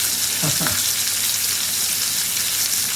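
Butter sizzles loudly and steadily in a hot pan before steak goes in, a close, constant crackling hiss with one brief stirring scrape near the start.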